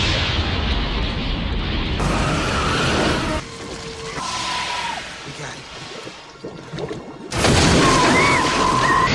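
Loud booming blasts and crashing impacts from the Anaconda film soundtrack, with bursts of heavy noise and a brief quieter stretch before another big blast.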